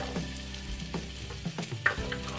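Peas and spiced potatoes frying in oil in a pan while being stirred for aloo baingan matar sabzi, a steady close sizzle broken by a few soft scraping strokes, no voices.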